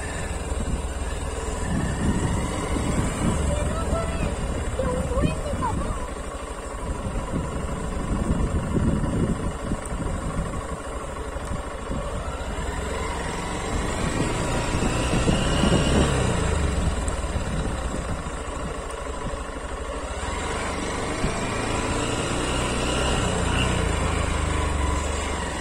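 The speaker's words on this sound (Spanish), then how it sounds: "vamos probando nueva Honda S-Play, kilómetro 18, probando full injection a una altura considerable." A 2023 Honda XBlade 160 fuel-injected motorcycle engine while riding at altitude, a steady droning hum with shifting pitch, mixed with heavy wind buffeting across the microphone throughout.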